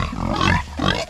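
A hungry farm pig grunts loudly and close by in two rough bursts, with no talk over it.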